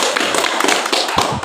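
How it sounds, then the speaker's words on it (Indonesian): An audience claps hands, giving a quick run of dense, close taps and thumps that keeps a steady level and ends in a few heavier slaps. "Tepuk tangan."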